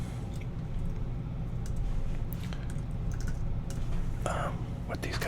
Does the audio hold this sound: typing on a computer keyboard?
yes